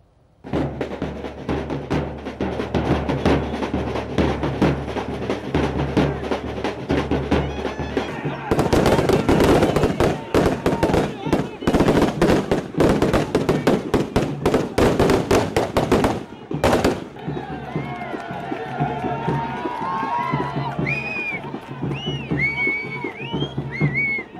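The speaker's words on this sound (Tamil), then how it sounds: "அவருக்கு பட்டாசு வெடித்து உற்சாக வரவேற்பு அளித்தனர்" Firecrackers are set off at a political welcome reception in Neelathanallur, Tamil Nadu. A loud, rapid chain of crackling bursts runs for several seconds, with crowd voices and talking heard before and after.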